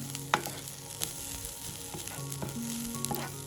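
Sliced onions frying in a pan with salt and chili flakes for potato tacos, giving a steady close sizzle with a few sharp clicks and stirring scrapes.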